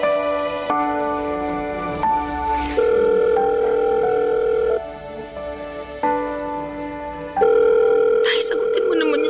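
A telephone rings repeatedly with no answer, steady electronic ring tones repeating in regular bursts over a quiet background during a dramatic radio story.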